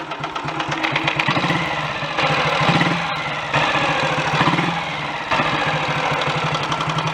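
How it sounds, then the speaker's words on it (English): An old Royal Enfield Model G 350 motorcycle engine runs steadily close by, a loud single-cylinder thump with mechanical clatter and small shifts in revs throughout, with no talking. "We've got the old Royal Enfield Model G running here"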